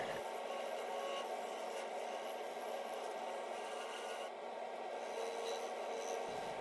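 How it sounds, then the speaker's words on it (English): A skew chisel shaves wood on a spinning lathe during woodturning, a steady, faint, even scraping hiss that runs unbroken throughout. "Here I am with a skew chisel. I've marked the area of the foot and now removing material"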